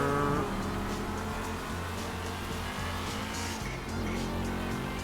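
Cars racing in Grand Theft Auto V, with loud, continuous engine roar and some tire noise, steady and close throughout.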